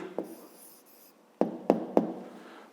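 A pen on paper during a fifth-grade maths exercise: a few faint strokes, then three sharp taps or scratches in quick succession, close and quiet with no talk.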